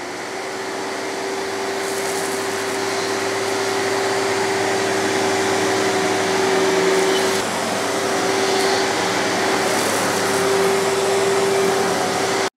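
A vacuum cleaner running steadily during a pickup test, a loud close constant whine and airy roar with a sharp tonal hum, no talking.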